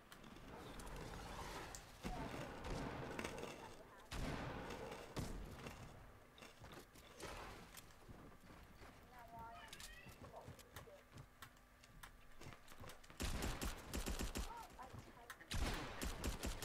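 Bursts of rapid automatic gunfire in a Fortnite match, fired by holding down the trigger, come in clustered volleys with quieter gaps, mixed with game ambience and players talking.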